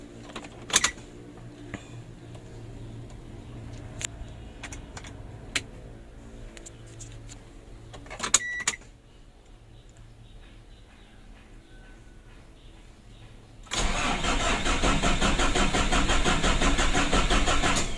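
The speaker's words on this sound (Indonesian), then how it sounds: "Kita tes dulu starter." A car engine that is overheating and hard to start cranks on its starter in a long, steady, churning run for about thirteen seconds, then catches and roars loudly at a continuous running level.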